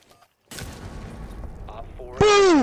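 A C4 charge detonates in Rainbow Six Siege, a sudden loud blast with a rumbling tail, followed by a short tonal in-game sound and a loud, strained shout.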